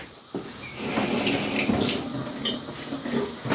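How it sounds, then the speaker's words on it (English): Cherry tomatoes rinsed under a running kitchen tap, a steady close splashing hiss of water over the sink that carries on for a few seconds without pause. "Oh, give that a rinse."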